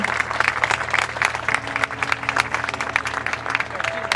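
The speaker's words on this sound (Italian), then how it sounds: "E questa persona è Anthony Di Stefano, che pregherei di accogliere con un grande applauso" An audience gives a big round of applause welcoming a guest at a Sicilian documentary event, steady dense clapping filling the room throughout with a faint murmur of crowd underneath.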